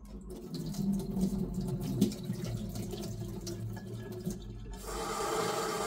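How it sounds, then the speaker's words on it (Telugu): Tap water runs steadily into a vessel of boiled baby corn in a home kitchen, a continuous rushing flow that stays moderately loud, with no talking. "ఇప్పుడు నార్మల్ వాటర్ పట్టేసుకోవచ్చు."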